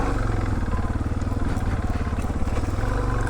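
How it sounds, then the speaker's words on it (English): A Suzuki DR650 dual-sport motorcycle engine thrums at a steady, throbbing pitch up close while plowing through mud, with a rough churning texture underneath, continuous throughout. "Wow, this motorcycle just plows through."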